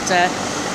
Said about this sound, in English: sorry about the noise. I got that big fan on.